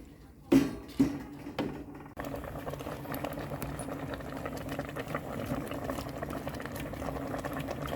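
Young tamarind leaves boil in a pot of water: two knocks from the pot open it, then a loud, steady rolling bubble runs unbroken to the end.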